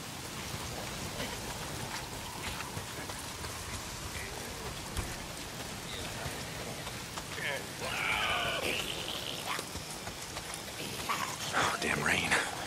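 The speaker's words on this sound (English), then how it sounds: "Why is it always raining?" Steady rain hisses and patters densely throughout in the game Days Gone, with a few louder bursts of spatter, while a person speaks faintly underneath.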